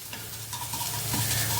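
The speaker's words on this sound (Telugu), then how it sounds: "కొంచెంగా పచ్చివాసన పోయే వరకు కొంచెం ఇట్లా వేయించడం చేసి" Ingredients stirred and fried in a pan, a steady close sizzle with scraping stirring strokes running continuously throughout, no talking.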